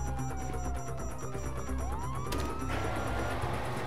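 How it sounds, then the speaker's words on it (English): Police sirens wail in the video game GTA V, their rising and falling tones sweeping over a constant rumble of engine and street noise. A sharp burst near the middle adds to the chaotic, busy scene. "Oh, fuck, you hear that? Sirens!"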